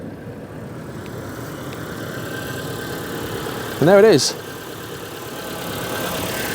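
A Proton Saga Iswara's 12-valve Magma engine idles outdoors, ticking over in an even low hum throughout, with a brief spoken remark near the middle.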